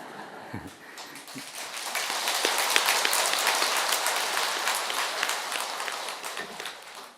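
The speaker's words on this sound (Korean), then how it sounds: "그 말 했다고 박수 치시는 거예요?" A seated audience at a Buddhist sermon breaks into applause that swells after a second and holds as a dense, steady wash of clapping for several seconds before tapering off.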